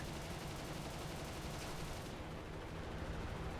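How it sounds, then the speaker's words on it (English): Bomber turret gunfire in the flight combat game War Thunder, heard from a fighter sitting on the bomber's tail: a dense, continuous rattle of rapid shots mixed with engine roar, loud and steady throughout with no talking. "Look at those turrets shooting at me."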